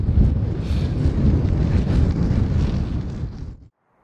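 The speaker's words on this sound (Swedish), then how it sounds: "Nu är det ju ganska mycket vind." Strong wind buffets a microphone during a headwind bike ride on a cold, blustery May day, a loud, continuous rumbling roar that cuts off abruptly near the end.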